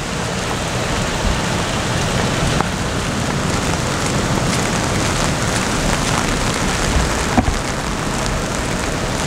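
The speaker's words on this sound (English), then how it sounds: "And it's a little rainy" Steady rain hisses down on an outdoor parking lot behind a post office, a dense even wash of drops with no pauses and no voices.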